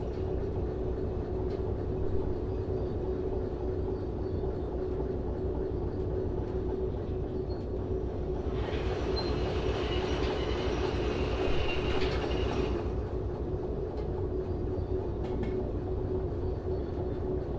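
A train in the railway game Derail Valley rolls along the rails with a steady, loud rumble and faint clicking. A high wheel squeal rises for a few seconds in the middle.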